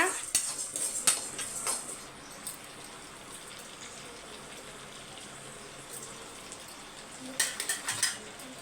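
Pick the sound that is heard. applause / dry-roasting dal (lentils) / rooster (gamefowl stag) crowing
dry-roasting dal (lentils)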